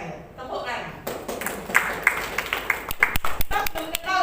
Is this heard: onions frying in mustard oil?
no